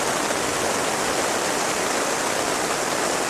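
Heavy rain pours during a severe thunderstorm onto a Magellan Lakewood Lodge cabin tent, a dense, constant hiss of downpour, loud and unbroken throughout.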